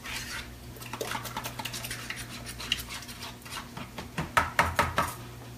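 Batter stirred in a bowl for banana bread, a spoon scraping and clinking against the sides in a quick, uneven rhythm that grows into sharper knocks near the end, close and fairly quiet with no talking.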